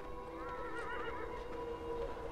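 A horse in the video game Beyond: Two Souls lets out a wavering whinny over a low ambient backdrop, with soft hoof clops underneath, moderately distant.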